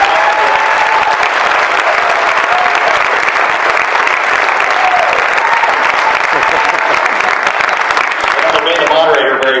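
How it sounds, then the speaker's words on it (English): Loud, sustained applause from a crowd at a Patriot movement event on Common Core in Ohio, dense clapping with scattered voices, continuing steadily throughout. "I want you to give a round of applause to Taya Shoemake and Heidi Huber"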